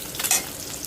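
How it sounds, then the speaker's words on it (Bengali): Fish frying in a pan in a home kitchen, a brief hiss and sizzle with a louder burst of crackle near the middle, heard close up with no voices. "এখানে মাছটা ভেজে নেওয়া হচ্ছে।"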